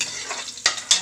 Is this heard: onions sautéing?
yes